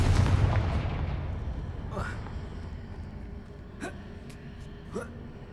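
A Confringo fire spell cast in the PS5 game Hogwarts Legacy, a heavy explosive burst at the start fading into a rumbling tail, followed by a few short whooshing spell sounds.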